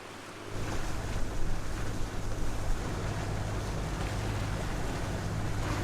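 Continuous low motor hum of a sailboat running under engine on calm water near Sydney Spit, mixed with steady wash of water and wind noise, holding even throughout with no voices.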